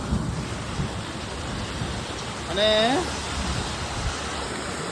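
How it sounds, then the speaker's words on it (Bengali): Heavy monsoon rain pours steadily in Odisha with a low rumble of thunder beneath it, a dense, close roar of falling water while someone briefly speaks partway through. "এত বৃষ্টি আমাদের দাঁড়িয়ে যেতে বাধ্য হলো"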